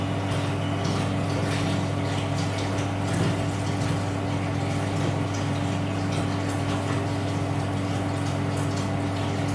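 Water runs steadily through a Bernoulli's theorem apparatus in a hydraulics lab, its flow set by a valve, giving a constant, fairly loud rushing hum with a pump-like drone underneath and no talking.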